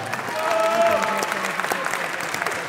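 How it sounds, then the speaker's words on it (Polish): Audience applause at the 2016 IFBB World Fitness Championships bikini contest, a full wash of clapping from a large hall, close and loud, with a brief whistle-like tone over it. "Wielkie brawa na Żanetę."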